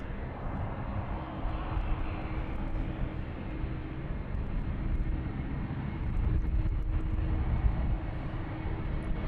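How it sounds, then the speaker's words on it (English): An Embraer jet taking off from runway 36L at Amsterdam Schiphol Airport, a distant, steady engine roar that builds slightly in the second half, with no one speaking. "currently lined up another Embraer, and also taking off"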